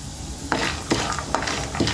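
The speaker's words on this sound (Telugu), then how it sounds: "కొంచెం శనగపప్పు కొన్ని పల్లీలు మంచిగా కొద్దిసేపు ఫ్రై చేద్దామండి ఆయిల్లో" Chana dal and peanuts frying in oil in a pan, with a low steady sizzle broken by a few sharp stirring clinks of a spoon against metal.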